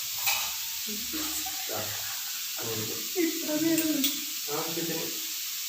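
Sliced onions sautéing with salt in a pan for kothu porotta, a soft steady sizzle with occasional stirring scrapes under a voice speaking intermittently.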